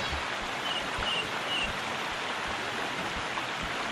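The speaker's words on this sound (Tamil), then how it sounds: "இந்த ஃபவுண்டன்ல 24 மணி நேரமும் தண்ணி வந்துகிட்டே இருக்குங்கய்யா" Water from a fountain runs steadily with a continuous hiss and splash, close and fairly loud, with no voices.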